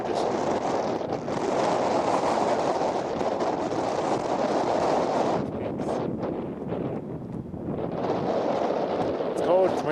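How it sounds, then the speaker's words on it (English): Strong wind buffets the microphone on a mountainside in Nepal, a loud roaring rush that drops and lulls briefly before gusting back. "It's windy."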